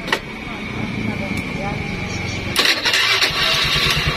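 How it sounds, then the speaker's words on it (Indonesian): Honda Scoopy carburetor scooter on a workbench, its engine already idling as the starter button is pressed, giving a grinding starter whir and a rising engine note in the second half, with a voice talking over it. "kita tekan tombol starter di saat mesin motor ini posisinya udah hidup"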